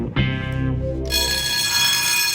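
A security alarm goes off in a MythBusters crime-myth test, a loud steady electronic tone with dense harmonics that grows brighter and harsher after a brief lower opening, continuous throughout with no talking.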